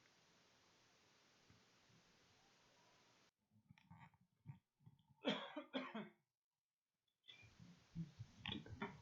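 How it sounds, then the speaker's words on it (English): A person coughs with something stuck in the back of the throat from cereal, a few sharp, close coughs and throat clearing in bursts between pauses, over faint background hiss. "If you guys can hear me coughing, I apologize."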